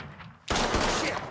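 Mafia III gunfire: after a brief quiet moment, a loud, dense burst of rapid shots bursts out and continues to the end, close and forceful, with no speech.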